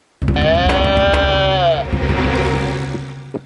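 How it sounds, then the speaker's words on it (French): In a French cartoon, a sheep gives one loud, close, wavering bleat that fades into a lower held tone, with nothing else around it. "Le mouton. Bé."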